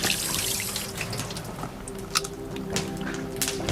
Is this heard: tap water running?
yes